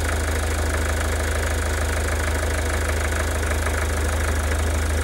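A common rail diesel engine runs steadily under test while its fuel pressure is varied, producing a constant, dense, close mechanical drone with a rhythmic knocking clatter throughout and no voices.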